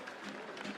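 A stadium crowd at a McNeese versus Stephen F. Austin college football game applauds an injured player being helped off, a steady distant wash of clapping with faint voices mixed in.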